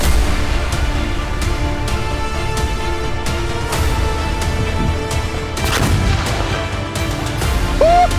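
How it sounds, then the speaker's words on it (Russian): An OG-9 fragmentation grenade fired from a launcher against a tank's armour: the shot and impact come as loud, rumbling bursts over a continuous outdoor background. "А сейчас я стрельнул осколочным."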